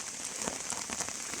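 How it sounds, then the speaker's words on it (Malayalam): Rain falls steadily during a morning village fishing trip, a soft, even hiss of drops on surfaces with faint scattered patters, quiet and unbroken. "മഴയായിപ്പോയി."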